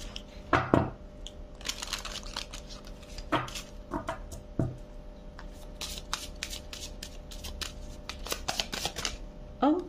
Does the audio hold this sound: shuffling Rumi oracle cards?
yes